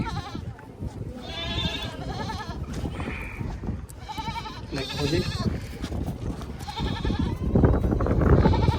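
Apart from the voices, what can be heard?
goats bleating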